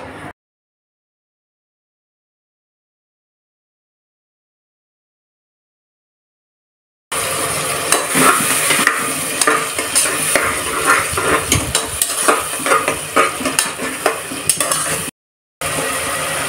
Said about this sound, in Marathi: तर तेल छान तापलेलं आहे, यामध्ये आपण आता बारीक चिरलेला कांदा आणि टोमॅटो घालून घेणार आहोत।